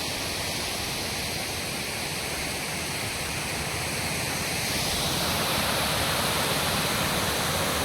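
Floodwater after heavy rain pours past a village in a loud, steady, broadband roar that swells slightly toward the end, with no voices.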